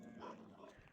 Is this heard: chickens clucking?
no